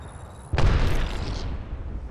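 A grenade goes off in a video game match on a map called Mirage: one sudden loud blast followed by a rumbling decay that lingers for over a second.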